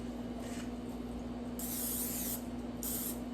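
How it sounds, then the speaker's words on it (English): Cooking spray hisses into the bottom of a cake pan in two bursts, a longer one and then a short one, close and sharp over a quiet steady background hum. "So I'm just going to spray the bottom of this."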